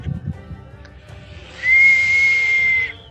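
A sustained, breathy whistle imitates fast arrows flying through the air during a tabletop role-playing game. It swells to a loud, steady tone for over a second after some quiet low background rumble.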